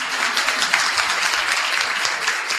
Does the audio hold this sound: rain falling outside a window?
no